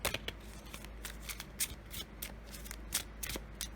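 Tarot or oracle cards are shuffled and drawn by hand, giving soft, quiet riffling and flicking with irregular light snaps close by.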